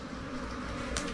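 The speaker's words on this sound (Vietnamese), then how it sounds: "Ong bắt đầu ra quá trời này." Bees pouring out of an underground nest beneath a house floor, a dense, continuous buzzing drone heard close and fairly loud, with a brief brush of noise near the end.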